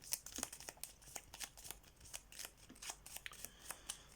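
Cards from a Worms board game handled, shuffled and drawn at close range, a quick irregular series of crisp snaps and slides, each short and distinct, with no talking.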